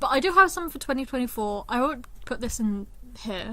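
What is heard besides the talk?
No everyday noises stand out.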